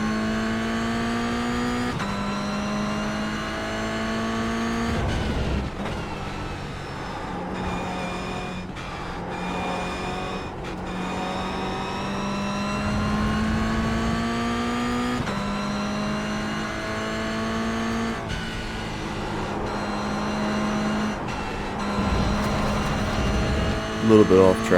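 A race car engine roars in a racing video game at the Zandvoort circuit, its pitch climbing and dropping through repeated gear shifts and braking, loud and continuous, with someone talking over it.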